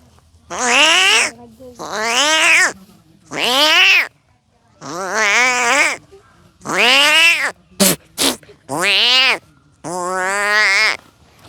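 A young boy imitates a cat's meow with his voice, giving about eight drawn-out, rising-and-falling meows in a steady series, close and loud, with a couple of short clipped calls near the end.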